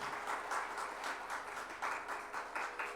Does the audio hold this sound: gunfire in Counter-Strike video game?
no